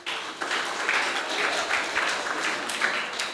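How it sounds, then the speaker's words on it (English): An audience at a school program claps for a group of boys, a steady moderate patter of hands lasting a few seconds, heard from a little distance and fairly soft. "give them a round of applause"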